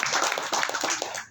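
A short burst of audience applause, a dense patter of many hands clapping at moderate loudness, fades out after about a second at a mosque gathering.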